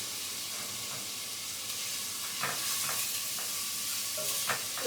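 Onions fry in a pan with a low, even sizzling hiss and a few faint scrapes of stirring, fairly quiet and without talk.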